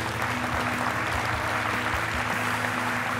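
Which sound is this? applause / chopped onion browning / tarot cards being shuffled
applause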